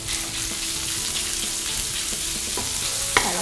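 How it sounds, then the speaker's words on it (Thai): Ground fatty beef stir-fries in hot oil in a pan for a miso rice bowl, giving a steady, close sizzle with a few soft scrapes and a sharper clink near the end. "ใส่เนื้อลงไปผัดค่ะ"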